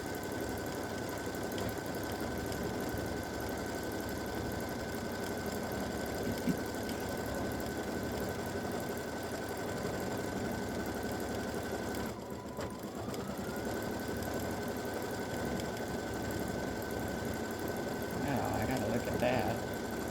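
A quilting embroidery machine stitches an edge-to-edge hummingbird and hibiscus design at 700 stitches per minute, a steady mechanical whir with a constant tone, close and continuous, with a brief shift midway and a faint voice at moments.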